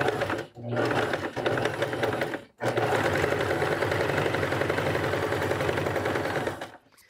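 Sewing machine stitching traditional quilt blocks, running loud and steady in long continuous bursts with two brief pauses, nearby and alone.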